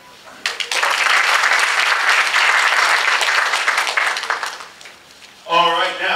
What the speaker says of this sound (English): let's give a round of applause to our event maestro, Ms. Adrienne Redmond.